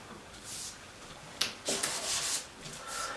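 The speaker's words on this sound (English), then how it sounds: "patch is just about rubbed down" Sandpaper rubs down a gelcoat repair patch by hand in short, uneven scratchy strokes, close and fairly quiet, with no talking.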